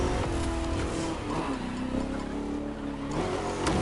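A limousine drifting in The Crew 2 racing game, its engine droning steadily with tire squeal and revving that swell and fade across a few seconds of continuous car noise, with no talking.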